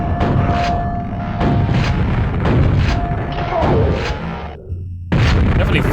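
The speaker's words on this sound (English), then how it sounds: "I think they're firing more grenades on the Nintendo 64 version than they do on," Grenades firing and exploding in Quake 64 on Nintendo 64 hardware, a run of loud, close booms and thuds in quick succession, with a short lull before a final heavy blast.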